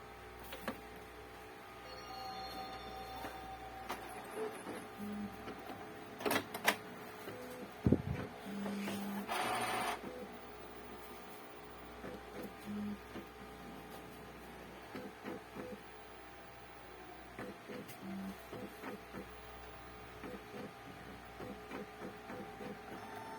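An Epson L565 inkjet printer whirs quietly, with intermittent clicks and a few louder mechanical bursts from the print head and paper feed.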